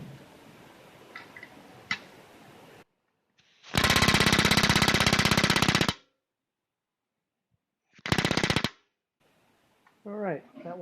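A pneumatic rivet gun sets rivets on an RV-7 aircraft elevator skeleton in two loud, rapid hammering bursts, one about two seconds long and one shorter, after quiet handling noise, with a voice starting at the end.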